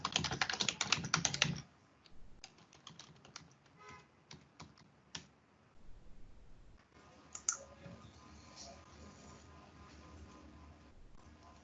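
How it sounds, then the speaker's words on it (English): Bursts of fast typing on a computer keyboard while entering login credentials. A loud flurry of keystrokes comes first, followed by scattered quieter clicks and taps. "So I'm going to type in my credentials."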